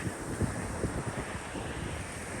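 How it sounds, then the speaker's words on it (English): Steady, roaring wind rushes past with low buffeting gusts, loud and continuous, no voices present. "I don't know if you can hear it whipping through the trees, but it's loud"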